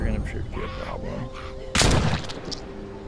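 A single loud, sharp gunshot in the video game The Walking Dead: Saints and Sinners bursts out midway, briefly louder than the steady background hum and faint tones around it.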